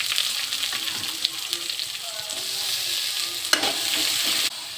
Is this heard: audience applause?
no